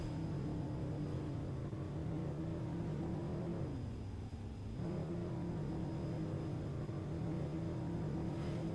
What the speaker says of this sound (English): This truck is overly loud.